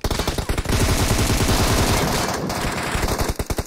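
Automatic gunfire from the PUBG Mobile video game rattles in a long, loud, rapid burst that trails off into a few last separate shots.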